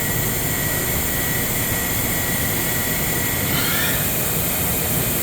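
A Yama Seiki VP-2012HD CNC bridge mill spindle spins at high RPM, giving a steady, loud machine whine with a broad hum that holds constant throughout, with no talking.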